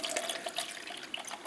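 Water runs from a kitchen tap into a container to refill a jar of fresh rinse water for watercolour painting, a steady close splashing stream alone for a moment, with no talk over it.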